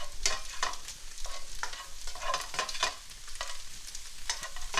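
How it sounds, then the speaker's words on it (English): A spoon or spatula stirring seasoning mixture into broccoli in a pan, giving soft repeated scraping strokes in an even rhythm with a faint sizzle beneath, close and fairly quiet, with no talk. "Now, we're just going to mix that all in."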